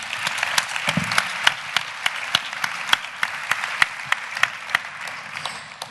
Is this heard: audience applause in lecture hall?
yes